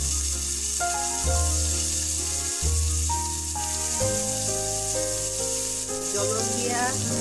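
Onions frying in hot oil for a traditional Assamese fish roe and tenga dish, a loud continuous close-up sizzle and crackle with stirring scrapes throughout.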